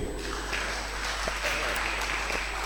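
A church congregation applauds and cheers in a dense, steady wash of clapping that runs without a break, with voices mixed into the crowd noise.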